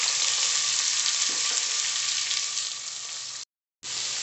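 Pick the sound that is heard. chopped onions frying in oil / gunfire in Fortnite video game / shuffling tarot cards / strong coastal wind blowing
chopped onions frying in oil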